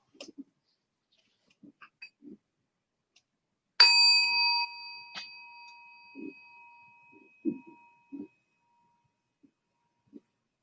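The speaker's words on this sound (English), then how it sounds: "when the bell sounds" A meditation bell is struck once during a guided meditation session and rings out with a clear, sustained tone that slowly decays. Otherwise the setting is near-silent, with a few faint clicks and soft rustles.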